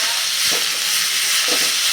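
Onion, tomato and mixed vegetables sauté in hot tempering oil for masala rava appe, a steady broadband sizzle with two soft scrapes of stirring, close and alone.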